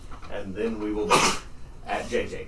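One sharp, close sneeze bursts out in the middle of a tabletop role-playing game session, with people talking before and after it.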